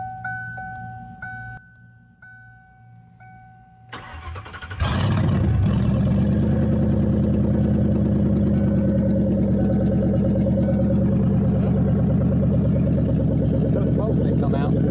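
A Ford Mustang with a newly installed engine is started by push button: quiet garage sounds, then a sudden crank and catch into a loud, steady rumbling idle that runs on to the end.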